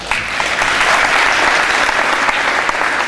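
Audience at a Black History Month celebration applauding to welcome a trustee, a dense, steady burst of clapping from a crowd, loud and close, lasting a few seconds without a break.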